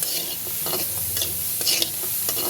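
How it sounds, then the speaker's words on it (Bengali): Steady sizzling of onions lightly frying in a hot pan, with a few scraping stirs over the crackle and no voices. "পেঁয়াজটা দিয়ে এটাকে একটু হালকা ভাজা ভাজা করে নেব।"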